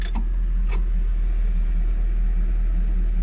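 The engine of a ZIL 130 dump truck running steadily with a low, even rumble as the clutch is released to raise the body, with a couple of faint clicks near the start.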